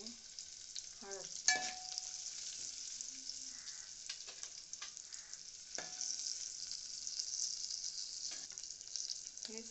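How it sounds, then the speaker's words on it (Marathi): Garlic and chili sautéing in a pan for curd kadhi, a steady sizzle with occasional stirring scrapes and a few louder clinks, continuous and moderately close without any talk. "लसूण आणि मिरची टाका। चांगलं परतून घ्या।"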